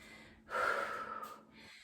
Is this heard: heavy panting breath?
yes